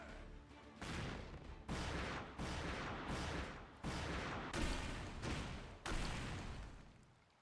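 Ship cannons fire in the video game Like a Dragon: Pirate Yakuza in Hawaii, about seven heavy booming blasts in rapid succession, each ringing briefly before the next, loud and close.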